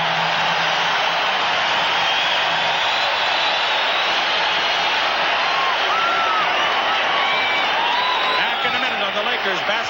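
A Lakers home crowd roars steadily during a timeout in a 1991 Western Conference Finals playoff game against Portland, with dense, sustained arena noise filling the whole stretch and faint whoops rising above it.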